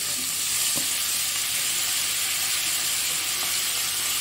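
Onion and tomato fry in a pan for an egg and leafy-greens fry, giving a steady close sizzle throughout with a couple of faint scrape or stir touches.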